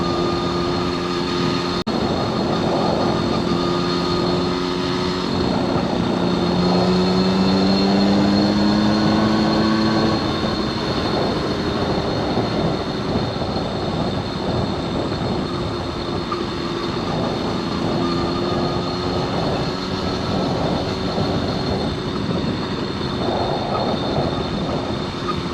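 A 1979 Honda Express moped engine running steadily while ridden, a loud continuous buzzing drone with wind rush and a wavering pitch that climbs for a few seconds, with no voices over it.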